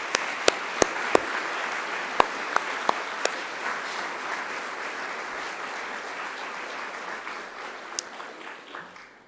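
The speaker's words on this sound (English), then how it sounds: "give them a round of applause in appreciation" Graduation audience applauding academic staff at Macquarie University, opening with a few sharp, close claps that swell into steady, dense applause and slowly fade near the end.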